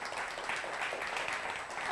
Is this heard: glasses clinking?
no